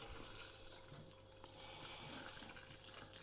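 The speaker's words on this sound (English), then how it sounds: "there's a jug full of boiling water straight out the boiler. So we'll literally just pour it slowly" Boiling water from a boiler-filled jug pours slowly over the skin of a pork joint, a steady continuous splashing and trickling stream, close and fairly quiet, with no voices.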